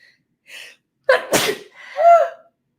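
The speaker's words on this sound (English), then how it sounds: "Oh, I'm going to sneeze." A single loud sneeze up close, with a sharp gasping intake before it and a trailing vocal sound afterward.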